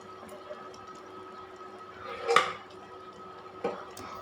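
Boiled mung dal is tipped into a pot of cooked fish head, giving a couple of close metallic clanks and a wet squelch of lentils landing, spread over a few seconds against quiet kitchen background.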